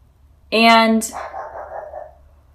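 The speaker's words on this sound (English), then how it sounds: "I don't know why my dog is barking" One loud bark rings out nearby, followed by a softer trailing sound, in an otherwise quiet room.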